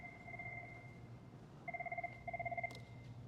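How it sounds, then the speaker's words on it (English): Telephone ringing with an incoming call, two-tone electronic rings in repeated bursts, moderately close over a low background hum, with no talking. "Hold on, I got a phone call."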